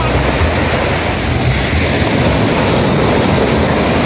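Loud, continuous roar of heavy surf with waves crashing close by, broadband and constant throughout, with wind buffeting the microphone.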